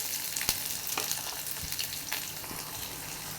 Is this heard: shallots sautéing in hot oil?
yes